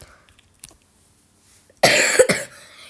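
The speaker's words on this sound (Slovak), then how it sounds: "že kašlem" A person coughs twice in quick succession, harsh and close, after a quiet stretch with faint background sounds.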